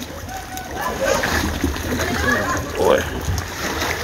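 River water splashes and sloshes steadily around a small boat in a strong current, a loud continuous wash with people talking over it.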